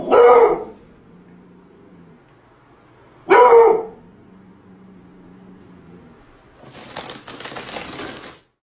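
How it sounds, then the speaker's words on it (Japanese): A pet dog growls toward a dining table in a home, with two loud bursts a few seconds apart, each trailing into a low sustained rumble, followed by a stretch of scratchy rustling noise. "投稿者の飼い犬がダイニングテーブルの方に向かってうなり声を上げています。"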